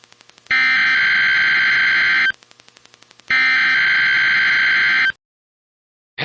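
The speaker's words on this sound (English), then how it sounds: "this was a test of the specific area message encoding and tone alert systems" A NOAA Weather Radio emergency alert test from station WNG704 in Hibernia Park, Pennsylvania: short bursts of buzzy digital data alternate with two long, loud, steady alert tones, then a brief silence.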